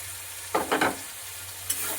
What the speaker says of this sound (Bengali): মটরশুঁটি টমেটো এগুলো বেশ ভাজা ভাজা হয়ে